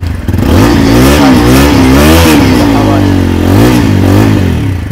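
A 2024 TVS Apache RTR 160 4V motorcycle engine revs loudly and repeatedly through its exhaust, the pitch rising and falling with each throttle blip, close and continuous.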